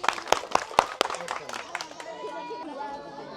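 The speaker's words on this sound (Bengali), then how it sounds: "ভাস্তির জন্য সবাই করতালি দেই।" A group of people applauds a player after a blindfolded pot-placing challenge game: several sharp claps at first, then scattered clapping that fades into crowd chatter and talk.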